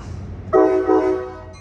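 An Amtrak San Joaquin passenger train arriving at Richmond station, California, sounds its loud horn twice in quick succession, steady and tonal, over faint rumbling background noise.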